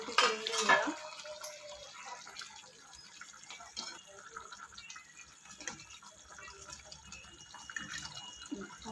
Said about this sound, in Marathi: आता आपण ह्यावरचं झाकण काढून ही वांगी परत आपण पलटी करून घेऊया.